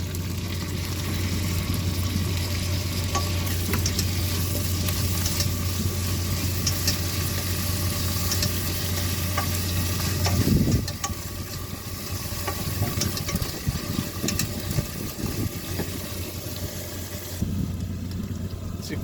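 Ginger, garlic, mint and coriander fry in a large pot for a corn and carrot biryani, giving a steady, dense sizzle with occasional stirring and a low hum behind it, with no voices.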